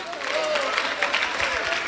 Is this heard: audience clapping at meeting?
yes